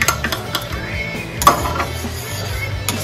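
Lapu-Lapu fish sauce thickened with slurry is stirred in a pan, a run of close metallic scrapes and clinks of utensil against pan with a sharper knock midway, busy and fairly loud.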